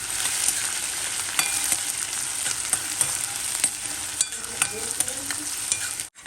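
Onions fry in a pan toward light brown, a loud, dense, continuous sizzle with occasional stirring scrapes and clicks, cutting off briefly near the end.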